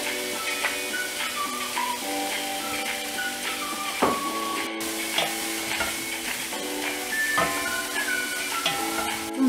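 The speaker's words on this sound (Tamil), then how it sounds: "ஆட் பண்ணிட்டு இதை நல்லா வந்து ஃப்ரை பண்ணணும்." Mushrooms frying in a pan as part of a chicken soup, a close, steady sizzle with crackling pops and occasional scraping and clinking from stirring, no talking.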